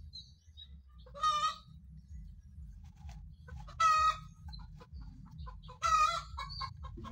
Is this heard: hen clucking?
yes